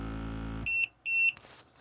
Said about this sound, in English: it beeps to let you know that it's done